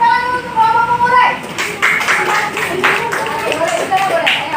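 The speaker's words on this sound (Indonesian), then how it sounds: "Kita kasih tepuk tangan dulu untuk kelompok pengurai." Applause for a student group in a classroom breaks out after a brief moment of talk, a dense patter of many hands clapping steadily with children's and adults' voices mixed in underneath.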